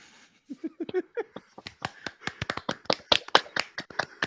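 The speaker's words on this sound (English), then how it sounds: "Keep clapping." A few soft voiced sounds give way to a string of sharp hand claps, irregular at first and then quicker and steadier, fairly faint.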